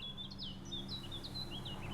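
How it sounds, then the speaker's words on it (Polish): Birdsong from the Witcher 3 game world: bright, repeated chirps and short warbling calls over a steady low ambient hum, fairly faint and continuous, with no speech. "Śpiewają ptaki, bzyczą pszczoły."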